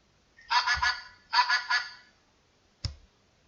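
A domestic goose honks in a farmyard, two loud bursts of rapid repeated honks followed by a single short honk, close and clear against a quiet background.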